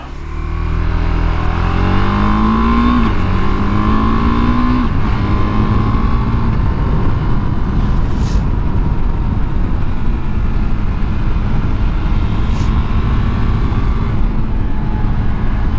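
A KTM 390 Adventure motorcycle with Kenda Trakmaster DTR tires heads downhill in the rain, its engine droning steadily and shifting pitch through gear changes, with constant loud wind rush and no talk.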